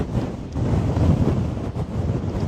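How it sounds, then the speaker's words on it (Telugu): Strong wind blows at a mountain viewpoint in the hills of Azerbaijan, a loud rough buffeting rumble that gusts and batters the microphone continuously. "విండ్ అసలు చాలా ఎక్కువ వస్తుంది"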